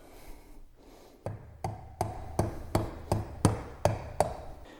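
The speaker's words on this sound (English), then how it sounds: "I'm going to come back with a rubber mallet and then gently hammer it in" Rubber mallet gently tapping a new gasket into the front differential of a Lamborghini Gallardo Superleggera: about nine evenly spaced, dull knocks that grow slightly firmer, close up, with no talk.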